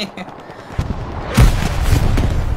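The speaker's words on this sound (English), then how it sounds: "Oh no, they threw a grenade at me." A grenade blast in a mobile war shooter lands as a loud, close boom about a third of the way in, followed by a rumbling tail mixed with scattered gunfire under game noise.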